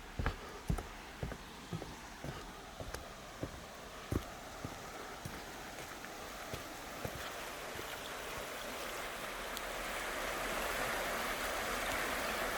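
Rapids in a flooded creek at Falling Creek Falls park, Lake City, Florida, rush steadily in the background, growing louder toward the end, with a few sharp clicks and knocks near the start.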